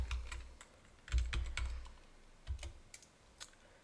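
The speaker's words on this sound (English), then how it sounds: "I'm going to type my templates" Quiet, close typing on a computer keyboard, with irregular bursts of light key clicks and short pauses, alone with no talking.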